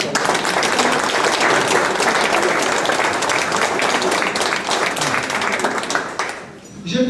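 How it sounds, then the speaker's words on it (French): An audience applauds a council president at a civic gathering in the Bugey wine region, a dense steady ovation of many hands that fills the space before tapering off near the end. "Et juste pour ça, on peut l'applaudir."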